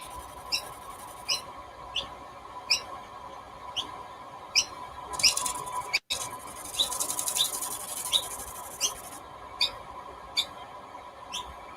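Faint, repeated high squawks and chirps from baby myna birds begging for food in a date palm, coming in short regular bursts over a quiet outdoor background, with a brief flurry in the middle.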